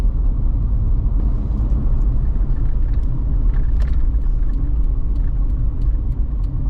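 A Jeep XJ driving on the road, heard from inside as a loud, steady engine and road rumble with continuous tyre and wind noise and a few faint rattles.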